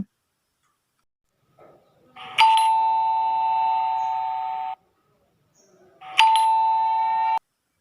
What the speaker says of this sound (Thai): เสียงกลิ่งหน้าบ้านดังขึ้น